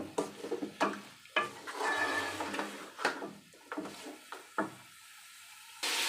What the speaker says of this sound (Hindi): बस 1-2 मिनट हमने इसको भुना है